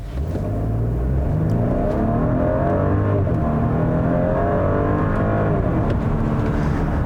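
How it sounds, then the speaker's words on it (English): A 2020 Porsche Cayenne with its base engine revs hard, a deep, continuous engine note rising and holding steady up close, with no talking over it. "And the Cayenne, this base engine, has a much better engine note"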